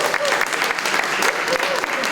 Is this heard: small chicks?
no